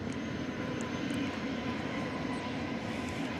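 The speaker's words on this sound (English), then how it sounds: "So the big Dreamliner touches down." Broadband jet engine roar from a Boeing Dreamliner landing at DFW Airport, a steady, moderately loud rumble that holds at an even level throughout with no voices.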